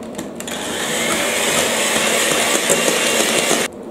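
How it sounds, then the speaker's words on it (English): An electric mixer whirs steadily as it whisks egg whites with cream of tartar and salt, a loud, even motor drone that cuts off abruptly near the end. "Gradually mixing the cream of tartar and the salt and the egg whites together"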